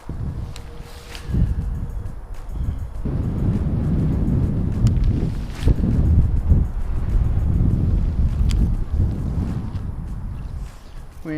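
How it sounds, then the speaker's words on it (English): Strong riverbank wind on the Columbia buffets the microphone in steady gusty roars that rise and fall for the whole stretch, with no one speaking. "Windy, windy, windy."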